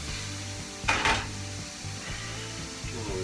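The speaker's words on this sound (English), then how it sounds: "Hear that sizzle sizzle, look at that." Soft, steady sizzling of sausage in a pan under a low background hum, with a brief scrape of a utensil in the middle.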